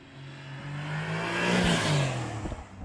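A sports car in Sport Plus mode accelerates hard along technical country roads in Spain, its engine note rising steadily in pitch and loudness, then easing off near the end.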